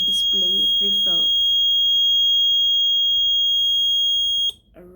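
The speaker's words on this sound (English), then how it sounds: "the float switch will read 0, and then the buzzer will be triggered" A water dispenser's low-water buzzer sounds as a steady high-pitched electronic tone lasting about four seconds, then cuts off abruptly. Someone speaks briefly over its start, and another voice comes in right after it stops.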